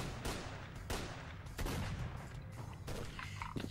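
Bursts of gunfire in the video game S.T.A.L.K.E.R. Clear Sky, several sharp shots and short volleys spread irregularly, fairly close and moderately loud with no talk.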